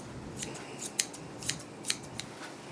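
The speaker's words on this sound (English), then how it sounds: "Just want to trim around your ear here." Scissors snip through the fur around a nervous dog's ear during grooming, several quick, light snips spaced irregularly and heard close up in a quiet room.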